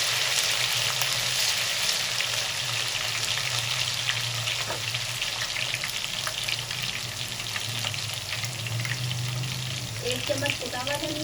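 Ginger garlic paste, two spoonfuls, sizzles steadily in hot oil with previously fried onions, a dense continuous frying hiss throughout with a few stirring clinks near the end.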